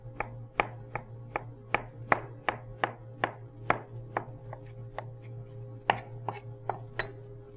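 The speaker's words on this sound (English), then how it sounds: "We'll cut it in half here and do some thin slices." Knife slicing a halved ingredient into thin slices on a cutting board, about twenty sharp, evenly spaced taps in a steady rhythm, close and clear over a low constant hum, with no talking.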